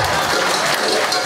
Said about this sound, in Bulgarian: Аплодисменти, скъпи гости.